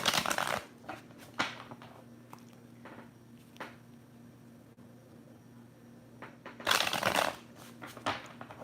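Cards being shuffled in several quick riffling bursts, loudest at the start and again near the end, with quieter handling and a low steady hum between.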